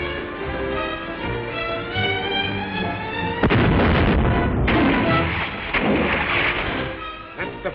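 Gunfire and heavy blasts from an old Undersea Kingdom serial, a sharp report followed by rumbling explosive bursts, lo-fi and band-limited after a stretch of dramatic music.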